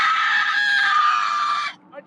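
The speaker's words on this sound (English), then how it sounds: "you need to scream at that car" A person lets out one loud, sustained, high-pitched scream at a passing car, held for nearly two seconds before it cuts off abruptly.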